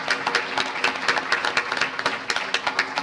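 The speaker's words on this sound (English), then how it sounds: "let's give Mike a round of applause." An audience claps for Mike at the Carroll Biz Challenge 2013 business event, a steady round of applause with dense, overlapping claps from many hands, no talk over it.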